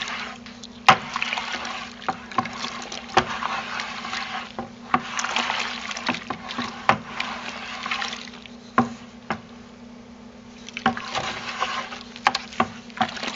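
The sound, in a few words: stirring homemade liquid laundry soap in a bucket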